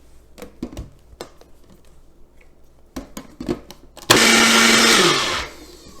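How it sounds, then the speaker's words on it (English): A blender whirs loudly through a cashew chipotle ranch sauce made with milk and lime juice, starting abruptly after a few scattered clicks and knocks and running steadily for about a second and a half before winding down. "I'm going to blend this for 1 to 2 minutes until it's very creamy and smooth"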